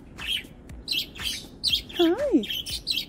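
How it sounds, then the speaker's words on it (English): A lost budgie chirps outdoors in a quick series of short, bright calls, with one longer sliding call in the middle. "I hear it chirping over there."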